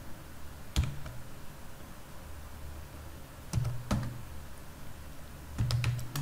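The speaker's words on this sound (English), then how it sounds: "So we have to write npm install" A few sparse, crisp keystrokes land on a computer keyboard while a software install command is entered, as isolated close clicks separated by quiet gaps.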